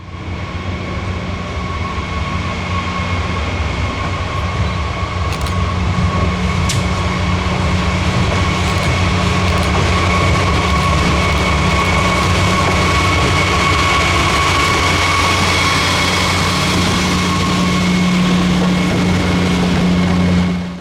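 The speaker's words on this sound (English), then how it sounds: "The engine is underway not much later, sliding along the trail at a location called Parkersburg." A WMSR train engine descends the steep 2% Sandpatch Grade with a loud continuous rumble, droning engine tones and a sustained high brake squeal throughout, no voices.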